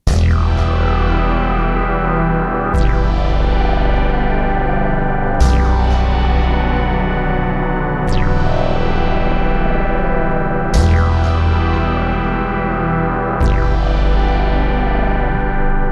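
A heavily processed Trooper Synth track by Yonac plays continuously with distorted, chorused tones and echoing accents recurring every few seconds, loud and alone.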